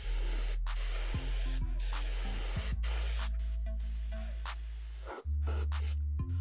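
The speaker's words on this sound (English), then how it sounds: "This is the metallic gray. We're going to apply it with my Pache airbrush." An airbrush sprays Tamiya metallic gray paint thinned with alcohol onto a sci-fi mask, producing a loud, close, steady hiss broken by brief stops and restarts, with a low motor hum underneath.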